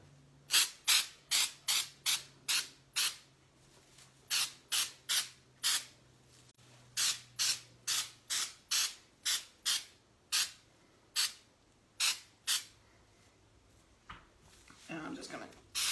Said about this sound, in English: you can use some of this snow spray